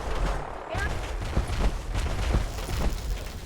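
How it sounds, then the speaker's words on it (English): Gunfire in the post-apocalyptic video game Fallout 4, a dense burst of repeated shots crackling over a busy game soundscape, with a voice talking alongside. "So I'm destroying it by shooting it?"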